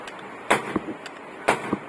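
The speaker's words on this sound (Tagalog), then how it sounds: "Ang daming putok" Several firecracker explosions go off in sharp, separate bangs, two louder blasts about a second apart with smaller pops and crackles between them, heard at a moderate distance.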